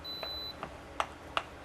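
A Sunmaki 316 induction cooktop gives off a series of short, evenly spaced faint beeps over a quiet background hum.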